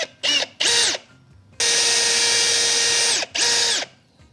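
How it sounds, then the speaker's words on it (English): A power drill bores into a plumbing line in short bursts, whirring up and stopping twice, then running steadily for about a second and a half before one last burst, loud and close. "I'm going to drill it down towards the bottom a little bit."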